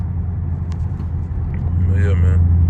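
A Dodge Hellcat's engine rumbles low and steady as the throttle is pressed while driving in winter, swelling slightly toward the end beneath someone talking over it.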